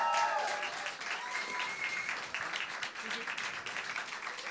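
An audience applauds a band at a live concert, a dense sustained burst of clapping that starts loud and stays steady, with some voices and cheers mixed in.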